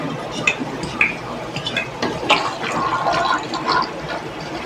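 Water gurgles and trickles as a siphon draws it out of a grow-out aquarium for juvenile fish, with irregular splashes and bubbling at moderate volume.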